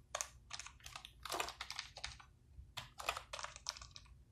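Typing on a computer keyboard into a Microsoft Excel spreadsheet, a quiet close run of quick clicky keystrokes in short bursts with a brief pause midway.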